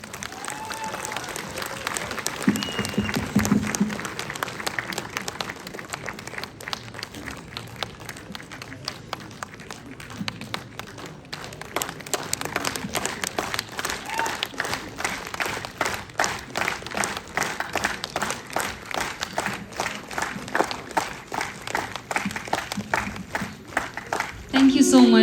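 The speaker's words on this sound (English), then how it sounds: "A big round of applause," An audience claps steadily and fairly loudly for the ZSUD members at the Zeliangrong Students' Union, Delhi freshers' meet, a dense rattle of hands sustained throughout with crowd voices mixed in.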